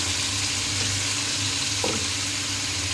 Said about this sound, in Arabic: ده التشويحه ديت اللي احنا عايزينها مع اللحمه